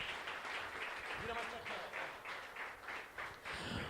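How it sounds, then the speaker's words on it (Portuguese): A church congregation applauds at a service, steady and loud enough to fill the room, with a voice speaking over the clapping. "Uma salva de palmas ao Senhor."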